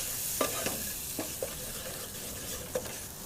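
Flour frying in meat dripping in a pan for a casserole sauce: a steady, close hiss and sizzle with a few light scrapes and clicks of stirring.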